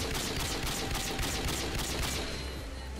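Gunfire from a sniper rifle in the PC video game Call of Duty: Modern Warfare 2, dense and continuous like rapid shots blended with game effects, sitting at a steady, moderate level throughout.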